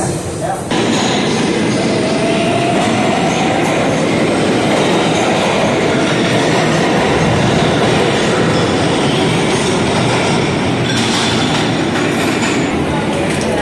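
PATH subway train riding at rush hour, a steady loud rumble of wheels and car noise throughout, with faint rail squeal and rattling near the end.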